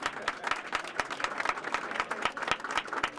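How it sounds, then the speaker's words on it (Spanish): An audience at a magazine launch for a Cádiz football trophy applauds, a full, continuous round of many hands with some crisp nearby claps punctuating the steady crowd clapping. "Un aplauso un poquito más fuerte"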